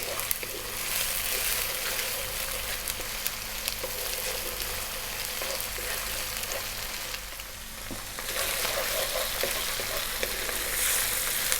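Fish masala spices with salt frying in hot oil in a pan, a close, continuous crackling sizzle broken by scraping stirs, louder bursts near the end, with no talking.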